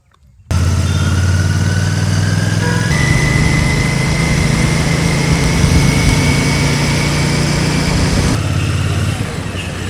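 A motorcycle engine runs steadily throughout on a ride in India, a loud, close, continuous drone with a low throbbing hum and a slight shift in pitch partway through, starting abruptly after a brief silence.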